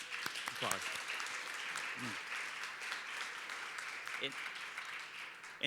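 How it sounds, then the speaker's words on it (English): Steady, full audience applause for singers who have just left the stage, with a few voices briefly rising over the clapping. "I think they deserve another round of applause"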